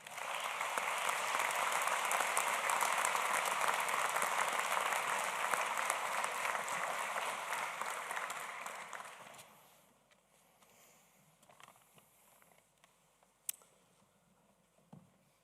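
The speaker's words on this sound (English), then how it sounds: "Please, a big round of applause for them." Audience applause at a university commencement ceremony, a dense sustained clapping crowd that fades out after about nine seconds into a quiet hall with a few faint knocks.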